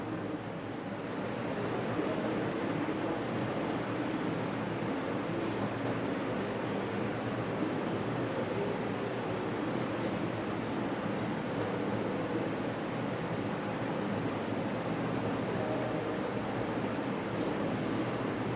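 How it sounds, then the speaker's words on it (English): Aircraft noise: a steady, even broadband roar that holds at the same loudness throughout, with no voices and no distinct events. "is sound from aircraft. Sound from aircraft."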